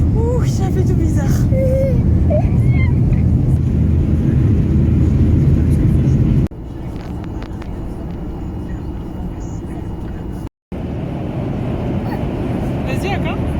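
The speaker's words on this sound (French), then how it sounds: "Ça y est, on a décollé." A passenger airplane climbs just after takeoff, heard from inside the cabin as a loud, continuous engine roar and rumble. A voice and adult voices talk over it, and the sound cuts briefly once.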